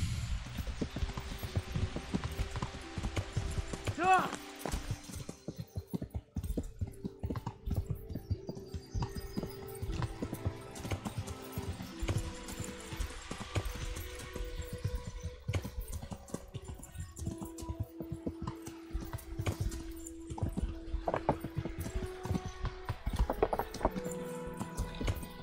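Steady hoof clip-clops from a horse in the video game Kingdom Come: Deliverance, rhythmic and fairly close, over a continuous background hum with occasional brief tones.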